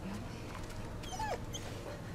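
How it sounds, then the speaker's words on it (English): A puppy in the horror video game The Medium lets out a short, high whimper that rises and falls, heard once over a steady low ambient drone of game background sound. "It's a puppy."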